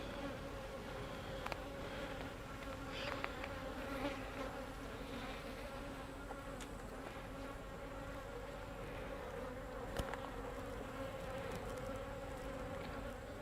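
Honey bees buzz steadily throughout an open hive being inspected, a dense, continuous drone with a few louder passes close by and brief handling clicks, no talking.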